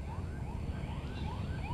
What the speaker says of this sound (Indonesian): suara ambulan itu